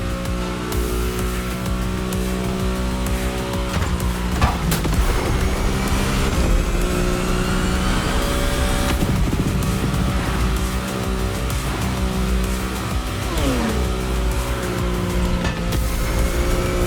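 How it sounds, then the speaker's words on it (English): Ford F-150 Raptor high-performance pickup in a racing video game, its engine roaring steadily with rising and falling revs, gear shifts, and bursts of tire squeal and skidding, loud and continuous. "A high-performance pickup truck by Ford, the F-150 Raptor."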